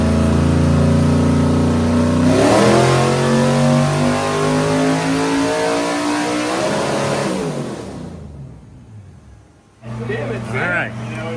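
A Ford Mustang engine with a stuck throttle revs loud and steady at high speed, then cuts out to near silence before a brief restart. Voices talk over the engine.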